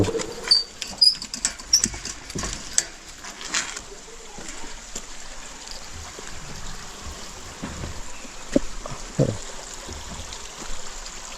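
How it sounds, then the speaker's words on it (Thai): A small stream flowing in a soft, steady trickle in Ban Mae Kampong, a mountain valley village in Thailand, faint and continuous, with a few scattered clicks and knocks near the start. "เหมือนมีลำธาร เล็กๆไหลผ่าน เสียง เสียงน้ำเห็นไหม"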